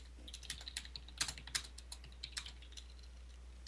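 Quiet, rapid typing on a computer keyboard, with irregular key clicks and a few sharper taps close by over a low steady hum.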